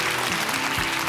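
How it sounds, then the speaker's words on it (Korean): A studio audience on the KBS quiz show Quiz Korea applauds a contestant with a dense, steady burst of clapping that fills the room. "여러분 격려의 박수 부탁드리겠습니다."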